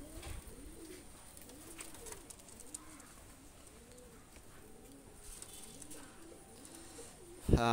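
Pakistani pigeons with aleep-type beaks coo in a steady, repeating rhythm of soft low calls, close by, with light background noise and a brief louder clatter at the very end.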